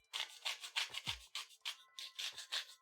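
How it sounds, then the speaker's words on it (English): A hand salt grinder cranking salt, heard as a steady run of short, close, gritty rasping strokes in an even rhythm, with no voice over it. "So I'm still using this salt grinder."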